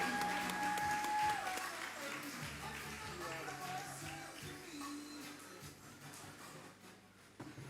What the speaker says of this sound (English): Let's have a rousing round of applause